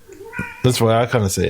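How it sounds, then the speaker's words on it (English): A house cat meows several times in short, close, strident bursts, overlapping a person talking nearby. "For those listening, that is a cat."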